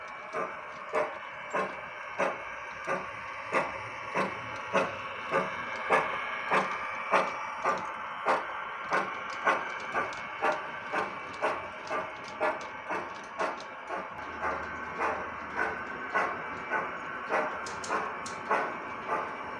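A small G scale model freight train chugs steadily uphill on a 2.5% grade, with rapid rhythmic clicking and clattering from the wheels and motor and slight wheel slip, close by and moderately quiet, without voices.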